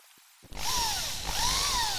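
A power drill spins up after a brief quiet and bores steadily through a hole, loud and close, its pitch dipping and recovering as the bit cuts.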